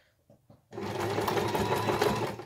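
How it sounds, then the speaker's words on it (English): A sewing machine stitches a curved seam on a beginner's sun hat: after a few soft clicks, a steady close mechanical whir runs without pause to the end. "And you're sewing on a curve."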